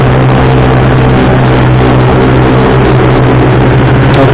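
Motorcycle with a racing exhaust on a Sunday group ride up Puncak, its engine droning loud and steady with a low rumbling tone throughout, no clear rev spikes, close and continuous.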